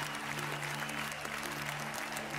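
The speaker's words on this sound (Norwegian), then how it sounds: "Gi en stor applaus til Stella og Asmund." A studio audience at the Norwegian dance show Skal vi danse 2011 applauds Stella and Asmund after their paso doble, a steady, fairly soft roar of clapping over a low continuous hum.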